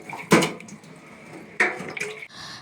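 Water pours and splashes as boiled chow mein noodles are drained in a colander, two short bursts of running water with a quieter dripping trickle between them.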